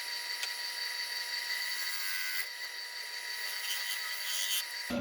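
Tool scraping a cherry wood bowl rim on a lathe, a continuous high, bright hiss of cutting with steady tone and a few small knocks, close and alone.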